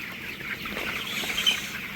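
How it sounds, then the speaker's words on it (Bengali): A dense chorus of soft clucks and chirps comes from many 15-day-old broiler cockerels in a poultry shed on wood-shavings litter, forming a continuous murmur with no voices. "মোরগগুলো দেখেন কত সুন্দর ডাঙর ডাঙর হয়ে গেছে, আর সাইজ সব একই রকম।"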